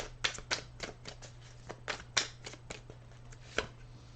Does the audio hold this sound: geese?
no